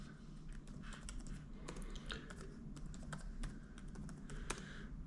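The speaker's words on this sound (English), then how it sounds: "let's type in" Quiet, steady clicking of keys as someone types on a computer keyboard, with rapid irregular taps running through the whole stretch and no talk over them.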